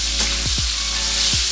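Raw minced chicken fries in melted butter in a pan, giving a loud, constant close sizzle with a few faint scraping sweeps and no voices.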